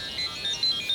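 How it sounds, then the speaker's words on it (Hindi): A mobile phone rings with an incoming call, sounding as a thin, high electronic ringtone of repeated short warbling beeps over a faint hiss, brief and moderately close. "इस फोन पर तो कॉल आ रहा है विक्रम का"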